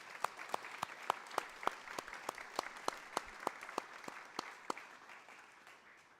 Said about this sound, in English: let's start with a warm welcome and round of applause for all of our educators